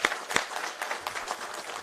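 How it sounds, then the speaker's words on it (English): Applause from the audience at the opening of a Eurofins biopharma services facility in Genome Valley, Hyderabad: a brief, moderately loud burst of scattered clapping with a couple of sharper claps near the start, fading into a steady patter. "I think that deserves a big round of applause."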